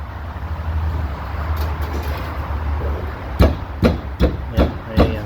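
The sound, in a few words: banging on jeep roll cage, rattling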